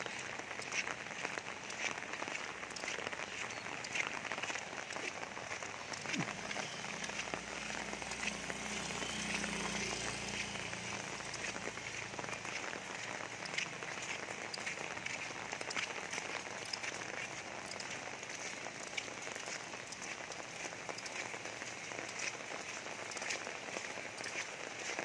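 Steady rain patters on surfaces outdoors in Barakhama, a dense, even hiss that runs unbroken throughout, with a low rumble passing partway through; no voices.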